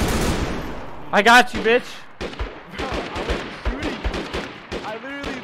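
Gunfire in the video game DayZ during a deathmatch, with several sharp shots and quick bursts, while players talk and shout over it.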